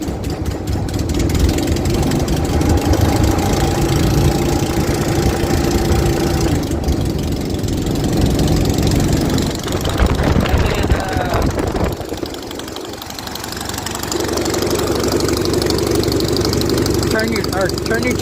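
A small piston engine runs steadily after being started, a loud continuous mid-pitched drone with a rough knocking edge, varying slightly in pitch and level near the middle and holding on to the end.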